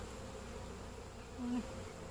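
Honeybees buzz steadily at an open hive holding a Kona queen colony, a dense continuous hum with a single bee droning briefly louder and closer near the end.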